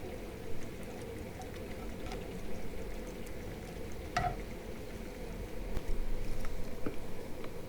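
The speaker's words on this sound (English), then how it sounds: "So you just saute it in." Peppers, onions, garlic and pimentos sauteing in a pan, a soft continuous sizzle with a few faint clicks and one brief clink, fairly quiet and steady without talk.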